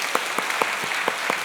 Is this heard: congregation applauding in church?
yes